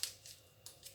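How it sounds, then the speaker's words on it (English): A few quick, crisp snips of scissors close by, cutting through a thin yeast packet in a short rhythmic series. "open your sack of yeast with some scissors"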